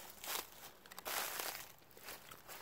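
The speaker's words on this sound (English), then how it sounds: "I don't know if you guys can hear that or not, but that is not good. It's super loud. Leaves are super crunchy." Footsteps crunch through dry, crispy leaves on a woodland floor during a hunt, coming as a few quiet, irregular crinkling bursts, fairly faint and with no one speaking.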